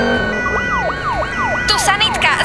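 A cartoon ambulance siren gives a fast, repeating wail, each tone sweeping downward in quick succession, loud and close, with a burst of other sounds near the end.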